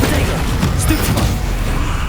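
A Stupefy spell hit in Hogwarts Legacy, heard as a loud, close thumping boom followed by a dense low rumble lasting about two seconds, with a voice faintly present.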